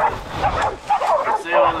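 Several Catahoula dogs yip and bark in quick, overlapping bursts during a boar hunt, fairly close, with a whimpering edge to some calls and steady background noise.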